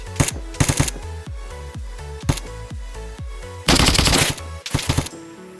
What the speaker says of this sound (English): And Fico's staying at the same position, shooting him, so the guy at the tree can't push back.